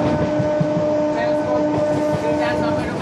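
A Howrah–Bardhaman chord-line local train runs along with a steady loud rumble and rail hum, its tonal drone constant and close throughout, with faint clatter underneath.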